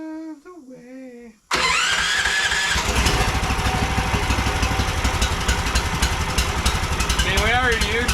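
A Predator 420cc surface drive engine cranks and fires up after a quiet stretch with talk, then runs loud and steady with a rough, pulsing roar that continues to the end.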